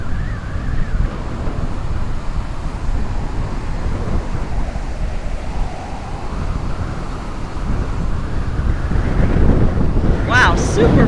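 Strong gusty wind roars across a rainy Florida beach, buffeting the microphone with continuous low rumbling and surf-like noise that builds toward the end.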